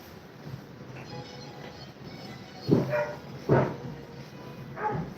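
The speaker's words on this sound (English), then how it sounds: "And the dogs go off." Dogs bark several times in the distance, a few separate loud woofs over steady background hum, with no one speaking.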